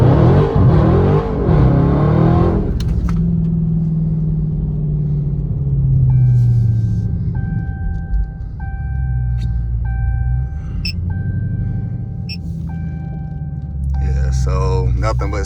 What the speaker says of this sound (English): Let's see what it's like taking off from a dig while the ground is wet.